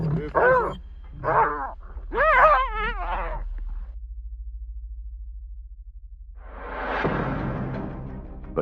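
Lions roar and groan in deep, close bursts while battling hyenas over territory, a series of rumbling calls followed by a pause and another rough roar, with no talk.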